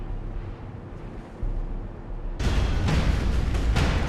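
A facility exploding in StarCraft 2 erupts into a loud, sustained blast roar after a quieter low rumble, with crackling bursts continuing to the end.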